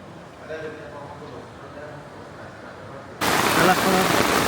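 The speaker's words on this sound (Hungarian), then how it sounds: "Ilyen eső van, úgyhogy kölcsönvettünk egy esernyőt" Heavy rain pours in a Borneo rainforest, starting abruptly as a dense, loud hiss after a quieter stretch with faint background voices.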